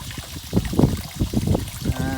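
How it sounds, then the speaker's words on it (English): Water trickles and splashes into a chamber of a 4000 gallon pond, a close, uneven gurgling flow with small bursts, and brief muffled talk over it. "So I'm happy enough that the water is going in there and unsettling in the chamber."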